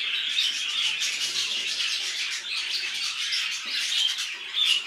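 Rainbow budgerigars, including a yellow-faced sky-blue hen and a male, chirp and twitter continuously in a dense, busy chorus of high warbling calls, steady and fairly loud throughout with no talking.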